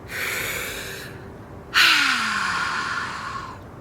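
Two deep breaths taken close to the microphone: a long breathy inhale, a short gap, then a stronger, louder exhale that slowly fades, with no talking.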